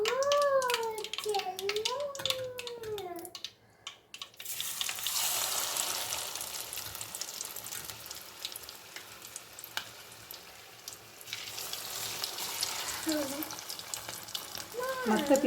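Chicken leg pieces deep frying in hot oil, giving a steady sizzling crackle that carries through most of the stretch, with a voice heard at the start and stirring noises along the way.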